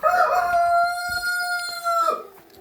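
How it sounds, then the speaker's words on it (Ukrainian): A rooster crows once, a long, loud, drawn-out call held steady before trailing off, fairly close with faint background noise. "Крикливий цей півень, який в 4 ранку буде"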